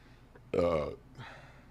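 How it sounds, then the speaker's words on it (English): A man belches directly into a close microphone, one loud, throaty burp lasting under half a second, followed by a softer breathy sound. "Burping directly into the microphone."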